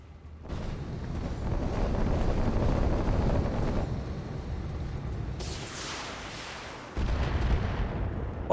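Bombardment in a BattleTech mech combat game: a heavy, continuous rumble of overlapping blasts that swells, then fades slightly before a fresh burst of booms near the end, loud and close, with no voices.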